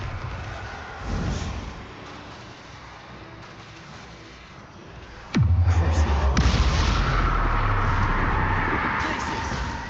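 A Bombarda explosion spell from the Hogwarts Legacy video game goes off as one sudden, loud blast, with a deep booming rumble that lingers and fades over the next few seconds.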